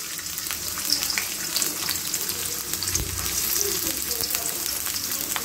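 Chopped new onion frying in oil in a pan, a dense continuous sizzle close by with faint stirring clicks throughout.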